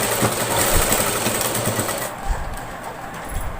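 Sewing machine running steadily as it stitches piping thread between layers of blouse cloth, a dense whirring drone that drops a little quieter partway through, with no voices.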